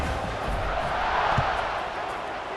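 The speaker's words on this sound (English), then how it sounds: "this crowd now ready to get behind them" A stadium crowd in the video game College Football 26 roars as a steady, loud wash of massed voices, sustained throughout without pauses.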